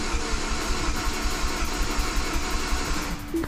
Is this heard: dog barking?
no